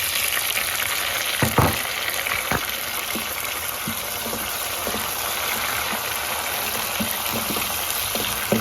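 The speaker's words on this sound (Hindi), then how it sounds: "अब इसमें डालूंगी मैं ये 2 टमाटर लिए थे और ये कुछ हरी मिर्चें हैं" Tomatoes and green chillies sizzle in a pan with browned onions, a steady close frying hiss with occasional stirring clicks and scrapes.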